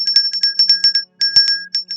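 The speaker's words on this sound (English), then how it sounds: "Ring the bell." A small hand bell rings in quick, repeated strokes with a bright metallic tone, pausing briefly before continuing.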